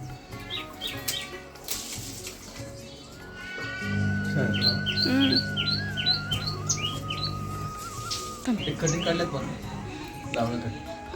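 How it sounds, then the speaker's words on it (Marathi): Birds chirp and tweet in short bursts around a person talking, with a sustained low hum in the middle. "पक्ष्यांचा आवाज किती सुंदर येतो आपल्या मागच्या"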